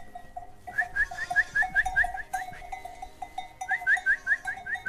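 Sheep on a farm bleating, with a rapid series of short repeated calls in two bursts over a low rumble of farmyard noise, moderately close and without talk.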